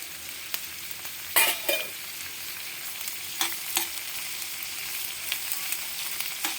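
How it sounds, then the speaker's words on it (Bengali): Chopped tomatoes fry in a pan with ginger and garlic cloves, crackling steadily with a few sharp scraping clatters from stirring, close and with no talking. "টমেটোটা নরম হয়ে যাওয়া অবধি আমি ভাজবো।"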